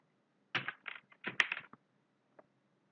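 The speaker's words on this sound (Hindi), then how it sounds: "तो अब हम इसमें टाइप करते हैं" Code is typed on a computer keyboard during a C programming lesson, heard as several short bursts of close, quiet key clicks with a lone final tap.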